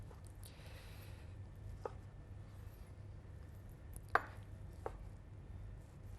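A knife slices tender Black Angus beef into small cubes for tartare, a few faint separate cutting taps spaced over a quiet background hum.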